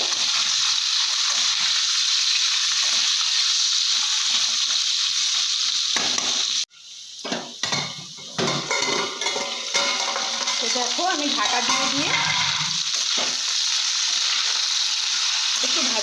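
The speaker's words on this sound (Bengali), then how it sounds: "বেগুন আগে একটু ভাজা ভাজা করে নিই ডাটা আর" Chopped vegetable stalks, eggplant and pointed gourd fry in oil in a pan, a loud steady sizzle that briefly cuts out and then returns with stirring and scraping.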